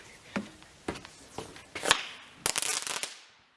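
A small firecracker set off with a homemade remote-control detonator built from RC car parts gives a few sharp cracks, then a rapid burst of popping that dies away into silence.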